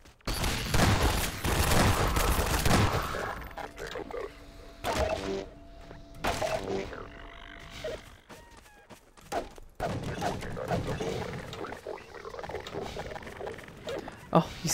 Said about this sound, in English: Wait, I'm on my shotgun.